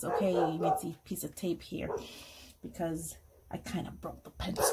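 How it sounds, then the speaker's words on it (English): A dog yips and whimpers in short high bursts in the room while a person talks steadily over it, the dog's sounds scattered through and partly masked by the speech. "I'm sorry for the dog"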